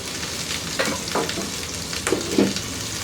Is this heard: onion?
yes